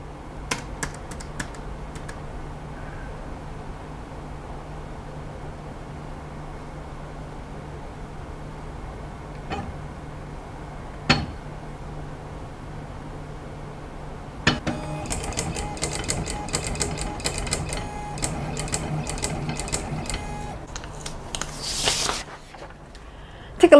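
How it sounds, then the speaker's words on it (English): Soft, irregular key clicks from a keyboard on a Chinese homework writing machine, followed by a busier stretch of mechanical clatter near the end, all fairly quiet against steady background hum. "now I'm going to type 4 I's and 4 W"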